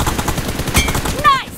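Rapid gunfire in the PUBG mobile video game on an iPhone XS, a short loud burst of shots followed by a game announcer voice.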